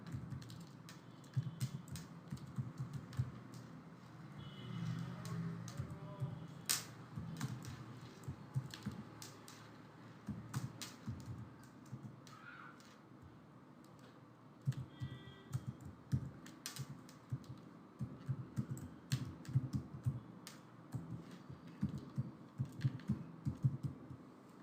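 Keys clatter on a computer keyboard as an address is entered, a steady run of quick, fairly close clicks and taps with brief pauses, no voices over it.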